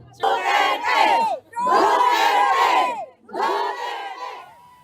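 A large crowd at a rally in support of the Philippines roars in three loud, sustained chanting bursts separated by brief pauses, voices massed close and energetic.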